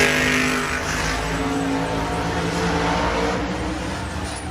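Monster trucks racing at Monster Jam in Anaheim, a loud, continuous roar of engines throughout with steady droning tone and no breaks.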